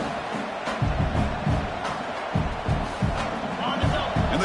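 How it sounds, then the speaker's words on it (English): A stadium crowd at an Oregon versus Alabama college football game roars steadily with rhythmic surges of noise, a broadcaster talking over it. "And the crowd coming to life here, trying to help this defense down in the red zone."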